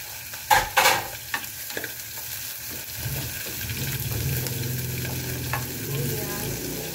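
Garlic dropped into hot oil in a pan, a few sharp knocks from a bamboo spoon followed by a steady, close sizzle of frying as it is stirred, with no talking.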